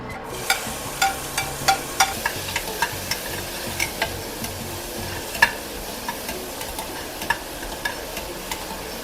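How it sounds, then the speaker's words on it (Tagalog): Garlic, onion and tomato sautéing in a pan for mung bean stew, with a steady low sizzle and a regular series of light spatula clicks and taps against the pan throughout, no voices. "Mag-isa kita diri sa aton nga ahos, bombay kay kamatis, pang finishing na ni siya."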